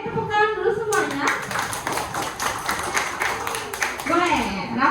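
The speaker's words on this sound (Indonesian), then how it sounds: "boleh tepuk tangan dulu semuanya?" A group of children clap together in a classroom, a burst of dense hand claps in the middle with young voices talking before and after.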